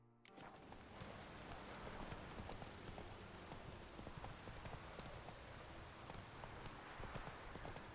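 Horse hooves clip-clop steadily in the video game The Witcher 3 as the horse trots, a continuous rhythmic patter that is fairly faint against a wash of rain-like background noise.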